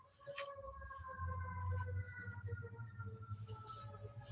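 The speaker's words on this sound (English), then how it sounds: "You guys can listen to the sirens and stuff." Sirens wail outside a classroom, faint and distant, with steady tonal pitches drifting over a low rumble of background noise.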